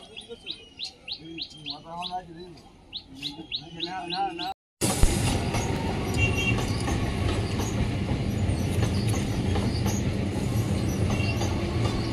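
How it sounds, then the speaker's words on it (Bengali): A train passes near a morning market, arriving after birds chirp and tweet in the quiet. A loud, steady rumble and rattle then fills the rest of the scene and drowns out everything else. "আপে একটা ট্রেন গেল, আবার এই ডাউন ট্রেন ঢুকছে।"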